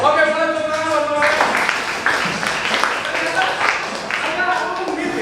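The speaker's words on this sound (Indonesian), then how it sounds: "boleh tepuk tangan teman-teman" A group of participants in a classroom game session applauds together, a dense, even patter of many hands that starts after a brief bit of talk and continues with a voice faintly underneath.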